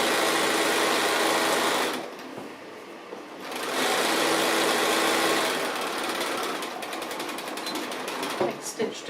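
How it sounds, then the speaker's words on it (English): Sewing machine stitching the binding along the last edge of a table runner, a loud steady mechanical whir that runs continuously, pauses briefly, then resumes. "So just coming along the last part of the binding,"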